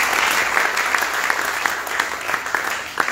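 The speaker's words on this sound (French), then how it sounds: "que quelqu'un acclame très fort le roi" An audience claps to acclaim a king. The applause is dense and sustained, with many sharp individual claps over a steady bright wash, and it holds at an even loudness from start to finish.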